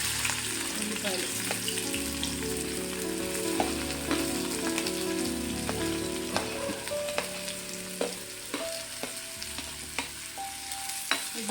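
Onions and green chillies frying in oil in a pan: continuous close sizzle with scattered crackles and occasional utensil taps, fairly loud, with a low hum underneath.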